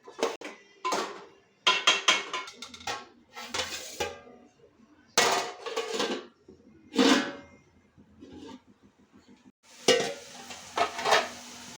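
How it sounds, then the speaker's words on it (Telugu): A spoon clanks and scrapes around a pot of broad bean and tomato curry in bursts of metallic knocks, followed by a lid being set down, close and loud with quiet gaps between strokes. "కలిపేసి మూత వేసుకోవాలి."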